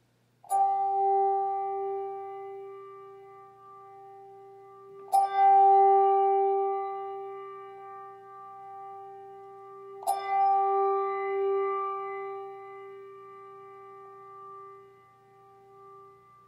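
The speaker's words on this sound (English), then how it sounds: "let us begin our service by enjoying the chimes of the Trinity." Church chimes at the opening of a Sunday service ring three clear, resonant strikes about five seconds apart, each tone ringing on and slowly fading into quiet.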